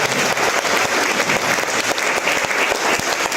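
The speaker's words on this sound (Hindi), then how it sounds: "उनके लिए जोरदार तालियां होनी चाहिए साथियों" Sustained audience applause fills the whole stretch, a dense, loud wash of many hands clapping at an event, steady with no pauses and no talk over it.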